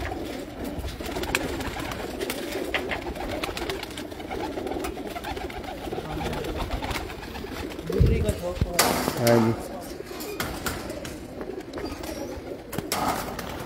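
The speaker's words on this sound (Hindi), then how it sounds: "कबूतर सारे हमारे घर के हैं" Pigeons coo on a rooftop loft in Hafizabad, a low steady murmuring under ongoing outdoor noise, with voices talking nearby and a brief louder burst of movement midway.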